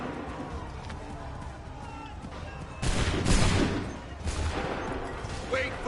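A musket volley fired by a line of soldiers in Assassin's Creed III: a muffled, rumbling burst of many shots at once, then a lighter crackle later, under a busy battlefield background with shouting voices.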